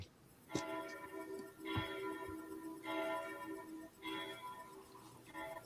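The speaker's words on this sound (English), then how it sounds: "I could barely hear the church gongs" Faint, distant church bell strikes ring out one after another at a slow, regular pace, each tone lingering before the next.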